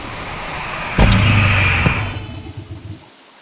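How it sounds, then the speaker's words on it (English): Heavy rain in a survival video game pours down as a broad, steady wash starting abruptly about a second in, then thins and fades out toward the end, with no talk over it. "Rain started pouring and the nighttime was approaching."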